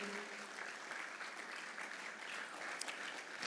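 A conference audience claps steadily and evenly, a dense wash of applause that holds at the same level throughout.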